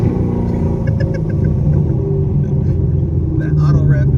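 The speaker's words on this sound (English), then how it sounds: "Peep this auto rev." A 900whp cammed C7 Corvette Z06 blips its engine for an automatic rev match, a loud, choppy, lumpy rumble that swells briefly inside the cabin while people talk over it.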